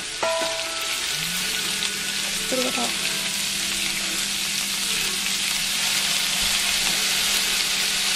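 Greens warming in oil and a splash of vinegar in a pan sizzle and crackle steadily and close by, with a few clinks of a utensil against the pan near the start.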